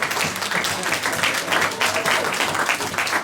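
Church congregation applauding and cheering during a French-language sermon, a dense, steady wash of clapping that fills the whole moment without letting up.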